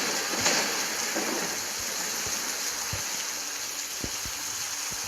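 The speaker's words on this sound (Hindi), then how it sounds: "तो खून की बारिश हो रही है हमारे" Blood rain falls in the Minecraft video game as a constant dense hiss of rainfall, with occasional faint low knocks in the background and no voices.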